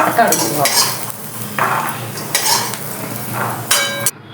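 Potatoes and peas being stirred and roasted in a pan for a usal, with several scraping sweeps of a utensil against the pan and a light sizzle underneath, close and fairly loud, no talk.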